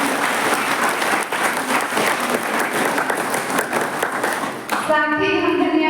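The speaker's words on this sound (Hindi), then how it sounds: "हम तालियां बजाकर धन्यवाद दें।" A congregation claps steadily and loudly at a parish feast day celebration for Our Lady of the Rosary, the dense applause filling the hall before a voice begins to speak at the end.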